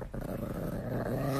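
A Chihuahua growls low and continuously at close range, a steady rumbling snarl that holds for the whole moment without any talking over it.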